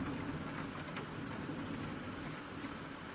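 Steady rain falls in a children's bedtime story, a constant soft hiss of drops on a surface with a faint low rumble, continuous and even throughout with no voices.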